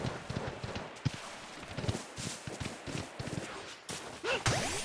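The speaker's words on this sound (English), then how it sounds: "Very fiery horse." A fire horse's hooves clip-clop in a quick, uneven rhythm over a noisy background in the video game Pokémon Legends: Arceus, ending with a few whooshing effects.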